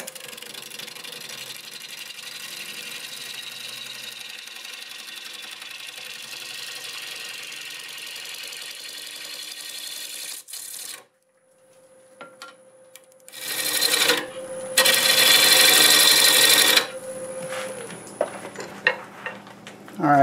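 A wood lathe turns a cherry bowl, its motor whirring steadily and fairly loud for about ten seconds before dropping away, followed by louder broadband bursts of cutting noise and scattered clicks.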